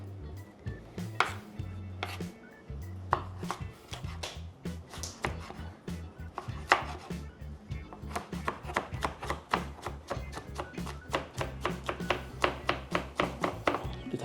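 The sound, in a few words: chopping vegetables for salad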